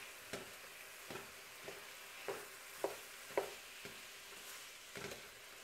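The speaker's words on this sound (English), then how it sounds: "So now goes the meat, the ground beef, and really quickly we want to make all the pieces separate." Ground beef frying in a pan for Greek stuffed eggplants, a constant sizzle with regular spatula taps and scrapes as the meat is broken apart, close and steady.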